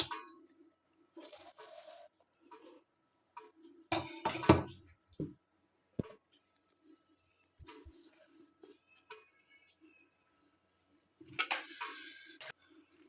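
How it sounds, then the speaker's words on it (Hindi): Beef being cut into small pieces for an Eid recipe, with intermittent knife taps, scraping and clinks against a metal pan or bowl, close-up, in scattered bursts separated by quiet gaps. "इसके बाद हमने इस गोश्त को छोटे छोटे पीसेस में काट लेना है।"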